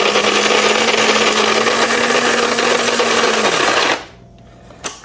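A Secura electric coffee grinder whirs loudly as it grinds coffee beans, a steady high-pitched motor drone with buzzing blades that holds for about four seconds, then cuts off and leaves near silence with one faint click.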